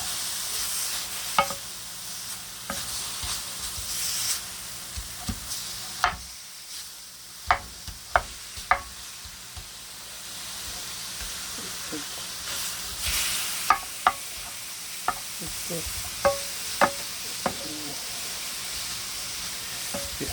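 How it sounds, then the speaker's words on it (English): Hamburger meat sizzles and crackles steadily in a hot frying pan, punctuated by sharp clicks and scrapes of a utensil stirring it now and then. "It is sizzling."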